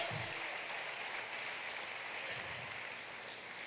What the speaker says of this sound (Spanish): le dan un aplauso al Señor